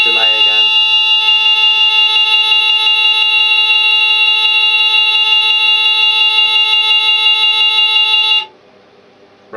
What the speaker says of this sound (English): A full alarm consists of the speaker ringing inside and a continuous buzzer.